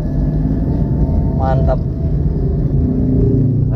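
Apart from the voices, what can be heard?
traffic jam, cars idling and revving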